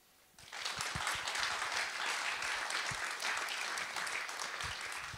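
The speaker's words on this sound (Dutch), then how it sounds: "Mag ik voor hier een groot applaus voor Inge Loes ten Katen en David Baneke" A roomful of people at a lecture bursts into steady applause that swells in and holds at an even, dense level throughout.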